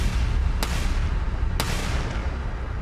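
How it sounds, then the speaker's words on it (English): Two loud, sharp gunshots crack out about a second apart in an ambush, each a sudden booming report over a steady rumbling background. "Shots ring out, multiple shots."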